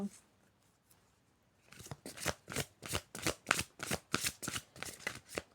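Tarot cards are shuffled after a quiet start, giving a run of about a dozen crisp riffling bursts in quick rhythm, close and clear.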